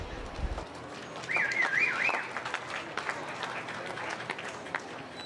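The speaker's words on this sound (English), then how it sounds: "So give him a round of applause" A crowd at a livestock swine show applauds the judge with a burst of clapping that stays steady, and a brief warbling whistle cuts in early on.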